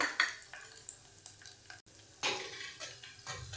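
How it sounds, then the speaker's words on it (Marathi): A spoon stirs gram flour into buttermilk in a bowl, with soft scraping swirls and occasional clinks against the vessel, quiet and close with no talking. "ताक घेतलं, याच्यामध्ये 1 चमचा बेसन पीठ घ्यायचं. हे सगळं याच्यात मिक्स करून घेऊया."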